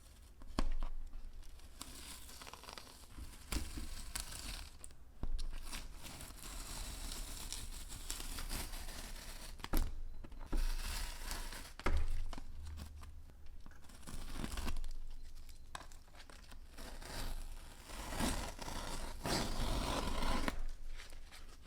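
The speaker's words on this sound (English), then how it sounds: "Now on to a little bit of ASMR tape peeling" Masking tape is slowly peeled off a painted artwork, a close, quiet, continuous tearing and crackling that runs in long uneven pulls with brief pauses between them.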